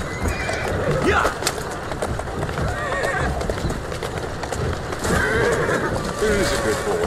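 In the video game Assassin's Creed Syndicate, a horse whinnies and neighs over the steady clip-clop of its hooves, with someone talking throughout.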